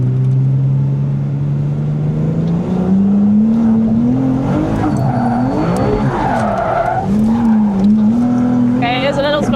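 A Ferrari 296 Speciale with traction control fully off slides through a corner, its engine droning loud and close as tires squeal and skid, pitch swelling and dipping with the throttle while people in the car talk.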